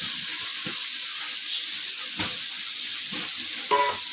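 Bitter gourd tossed into onions frying with green chilli paste in a pan, a steady loud sizzle with occasional stirring clinks and scrapes, no voices.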